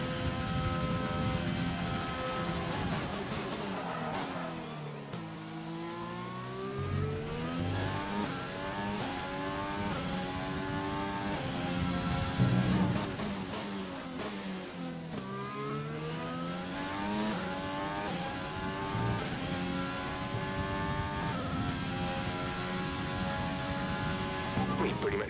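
A Formula 1 race car engine in the F1 2020 video game at the Hungary circuit revs continuously, its pitch climbing and dropping through repeated gear changes, with occasional talk over the engine noise.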